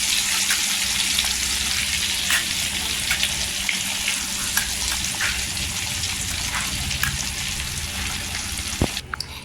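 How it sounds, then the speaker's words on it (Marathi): Coriander leaves fry in hot oil for crispy puffed-rice chivda, with a loud, dense, steady sizzle and crackle close up, some light stirring taps, and a sharp clink near the end. "कोथिंबीर टाकायची तेलात आणि छान अशी फ्राय करून घ्यायची"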